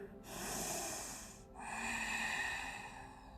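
Two deep breaths during a yoga session, a long airy inhale followed by a slightly longer exhale, close and soft with a slight nasal rasp.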